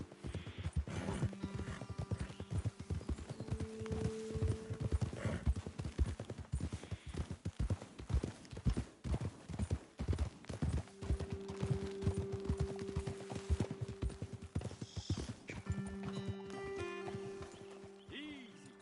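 Horses' hooves clip-clopping steadily during a ride in a video game, a rapid rhythmic patter with occasional tonal game sounds and a whinny, moderately loud throughout.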